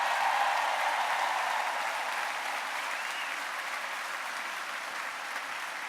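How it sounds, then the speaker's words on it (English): Audience applause at a school district convocation, a broad wash of steady clapping heard from a distance, gently fading in strength over several seconds with no talk. "Give a big round of applause to everyone."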